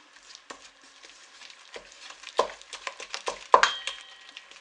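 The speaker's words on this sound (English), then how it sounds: "So now we're just going to stir this in" Icing for a Christmas cake being stirred in a bowl, with soft scrapes and light clinks of a utensil against the bowl in an uneven rhythm, close and quiet.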